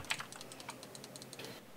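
Fast, light typing on a computer keyboard, with soft irregular clicks that bunch into quick runs and come close and quiet, with no voices.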